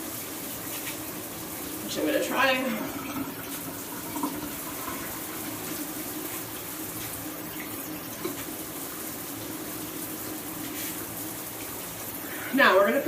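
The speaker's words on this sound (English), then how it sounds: "You can also add water as you go along," Tap water runs steadily while hair is washed and rinsed, a continuous close hiss that lasts the whole time, with a person talking over it.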